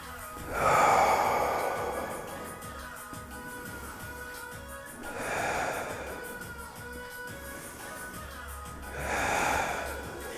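Three deep, slow exhalations during a glute exercise, each a broad, breathy rush swelling and fading at roughly four-second intervals, close and fairly loud over a low steady background with no talking.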